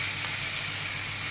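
Fried vegetables for ghoti barir sukto being stirred in a hot pan of oil and ginger sizzle steadily up close, a continuous frying hiss with faint scraping and no talk.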